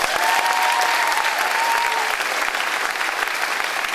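An audience at a concert applauds steadily, dense clapping heard close and loud for a few seconds, with a faint voice briefly over it.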